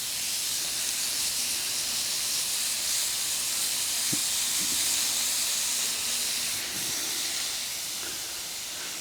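Slices of homemade seven-day equilibrium-cured pork belly and beef belly bacon fry in a pan with a dense, even sizzle that stays loud and close throughout, marked by a few faint pops.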